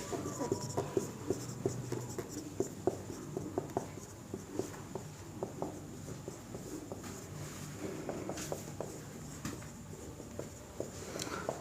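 Pen or chalk writing out a point during a lesson on living and nonliving things, continuous soft scratching strokes with small taps, close and steady, with no talk over it.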